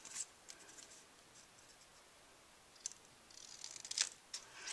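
Quiet snipping of scissors through paper, a few short crisp cuts scattered across a near-silent background.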